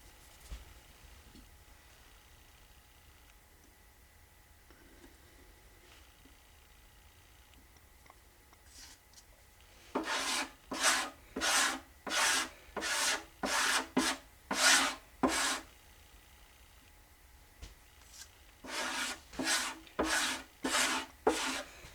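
An auto body squeegee spreads Timbermate pore filler over guitar wood in distinct rhythmic strokes, each a loud scraping swish, in two bursts after about ten seconds of near-quiet, with no speech.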